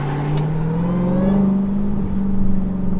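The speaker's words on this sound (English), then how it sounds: "that supercharger is so loud and sounds so insane" Supercharged Dodge Challenger Hellcat accelerating hard, a loud rising supercharger whine over a steady engine drone heard from inside the car, building continuously for about three seconds.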